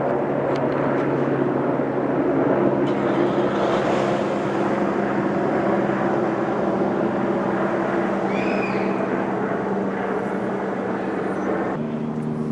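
A steady, loud engine drone with a low rumbling hum fills the whole stretch, like a helicopter nearby overhead, holding constant without clear buildup.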